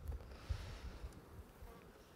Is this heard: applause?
no